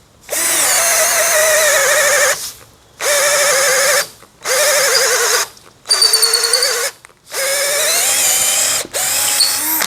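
A DCA ADJZ2035i cordless impact drill bores into wood in five loud, high-pitched whining runs of about two seconds each, separated by brief pauses, with the motor pitch shifting under load.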